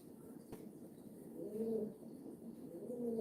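A pet opal pigeon being stick-trained gives soft, low coos in short repeated phrases, quiet and close, with no talk over it.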